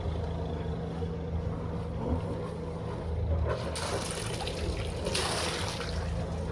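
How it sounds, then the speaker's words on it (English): Steady splashing and trickling of cooling water discharging from a Dufour 530 sailboat's engine alongside a low idling engine hum, continuous and fairly close. "You can already hear the water coming out of the cooling system to the right"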